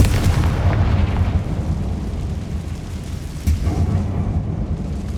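A Confringo fire spell goes off as a deep, rumbling blast in the game Hogwarts Legacy, with a sustained roar that fades and then a second thump partway through.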